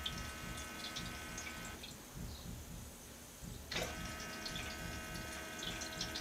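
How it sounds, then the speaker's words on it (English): Water fills the reservoir of an Ice Appliance automatic ice maker from underneath as a small pump hums steadily, with a trickling flow that briefly drops away in the middle and then returns. "this is where the water reservoir is going to start filling with the water from underneath"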